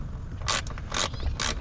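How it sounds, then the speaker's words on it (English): Screws are backed out of the drive belt cover on a 2022 Can-Am X3 XRS with a power tool: three short, close, whirring bursts, each about a tenth of a second, separated by brief pauses. "Just removing all these screws."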